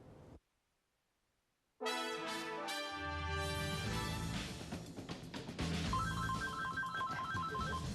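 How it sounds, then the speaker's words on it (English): After a brief silence a telephone rings with a loud, repeating electronic ring, joined by a soft background tone and faint chatter. "When Crystal Milton answered the phone"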